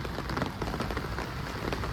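Heavy monsoon rain in Banaskantha district, Gujarat, pours down in a dense, continuous hiss of drops pattering on surfaces, close and loud with no voices.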